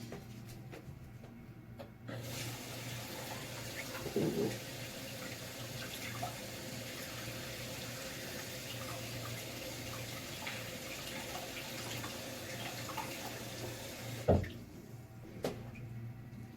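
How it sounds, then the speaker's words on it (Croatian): Water is poured into an Eheim Classic 250 aquarium canister pump to rinse out its insides, a steady splashing stream running close and continuous, with a couple of brief knocks near the end. "A sad moram sipat vode u ovo pa da promučkam."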